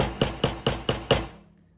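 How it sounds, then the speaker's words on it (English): Five sharp, evenly spaced hammer taps on a wire-wrapped jewelry link, close and crisp, each ringing briefly before the last decays into quiet. "So let me quickly hammer that one."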